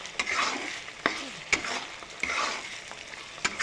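Chopped onions fry in a pan until browned for a tomato chicken and potato curry, a steady close sizzle broken by several sharp scraping stirs of a spatula.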